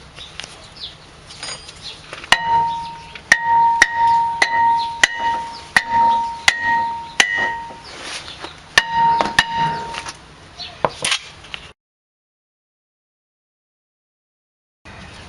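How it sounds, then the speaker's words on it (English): Hammer tapping a brake rotor off a 2003 BMW 745Li, sharp metallic taps in an irregular series of about a dozen, some ringing, over a murmur of background noise, then silence. "Give it a couple of taps with this hammer around here"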